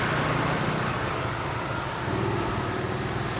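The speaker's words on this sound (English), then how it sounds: "And so many loud engines here." Traffic engines rumble along a beach road in Jomtien, a continuous dense roadway hum with one vehicle droning louder toward the end.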